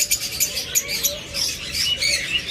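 Caged pet lovebirds and budgerigars chirp and tweet in quick, overlapping bursts, bright high calls repeating close by with a few louder peaks, no talk over them.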